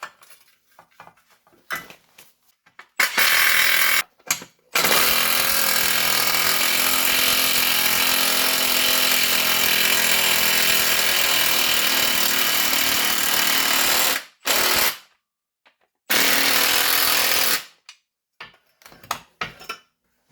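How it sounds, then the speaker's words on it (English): A power ratchet tightening parts on a Subaru WRX wagon during STI six-speed swap prep: loud, harsh buzzing runs, one long burst of about ten seconds between shorter bursts, close up with no talk. "I'll put these together with the ratchet so I don't break anything again"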